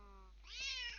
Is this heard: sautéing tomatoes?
no